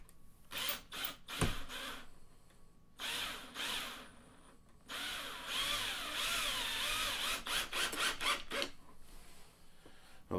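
Power tool whirs in repeated short bursts, close and fairly loud, driving studs tight on an amp grill; each run rises and stops with brief pauses between.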